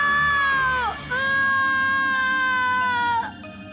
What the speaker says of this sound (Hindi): पूजा के चीखने की आवाज उसी घर के अंदर से आ रही थी।